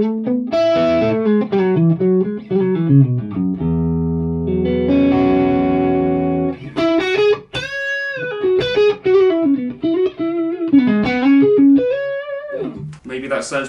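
Electric guitar played through an Axe FX 3 amp modeler with FullRes cabinet impulses, loud and close: sustained chords, single-note runs and a held low chord, with distortion and a roomy reverb tail, no talking.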